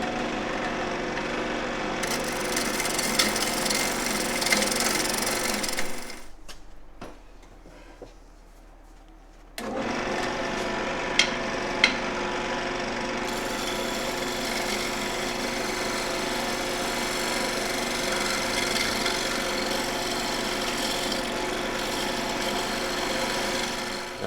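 Wood lathe turning a wooden ring holder, a steady loud whirring hum with shaping noise, interrupted midway by a quieter spin-down stretch with small taps before the full whir returns.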